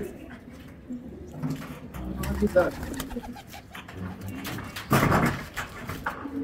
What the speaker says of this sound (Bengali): সব কবুতর চলে আসছে